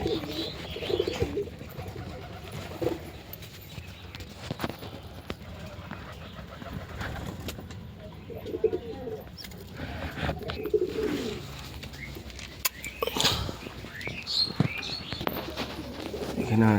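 Pigeons, including pairs of racer and local chicks, coo softly and intermittently close by, with a few chirps and wing movements, while someone talks over them.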